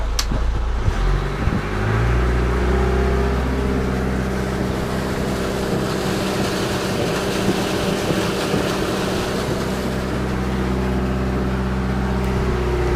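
A sailboat's diesel engine runs with a deep, steady rumbling drone and humming tones, loud and close, with no voices.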